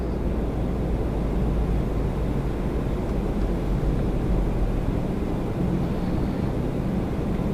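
An Embraer 175 airliner at Toronto Pearson produces a steady, broad engine roar that holds level throughout, heavy in the low end, with wind rumbling against the microphone.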